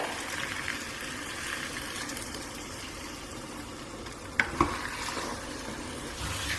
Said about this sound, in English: So I'm now going to add a bit of water.